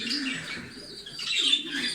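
Pigeons inside a coop, cooing and rustling softly with light chirps, a close, continuous low murmur of birds.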